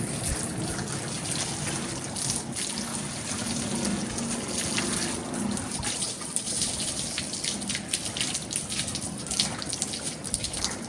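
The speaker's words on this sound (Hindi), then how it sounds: "अब ये पानी को धकेल जाते हैं। सबसे पहले मुंह हाथ धो लेते हैं।" Water pours and splashes outdoors during a face and hand wash, a steady gushing trickle with irregular splatters, fairly soft and continuous.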